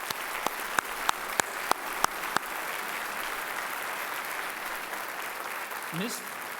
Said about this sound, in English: This is the part where we clap.